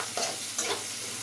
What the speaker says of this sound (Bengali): তো এই আমার পেঁয়াজ ভাজা হয়ে আসছে